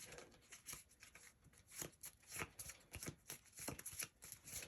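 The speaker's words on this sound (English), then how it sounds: "Shuffle up the cards," Playing cards from a dungeon deck board game shuffled by hand on a tabletop, a series of quick crisp riffling bursts in an uneven rhythm, close and fairly quiet with no talking.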